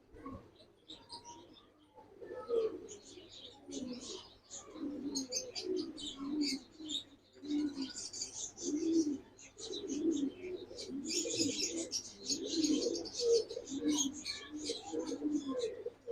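Pigeons coo in a loft in low, repeated throaty rolls, close and soft, with occasional higher chirps and faint voices in the background.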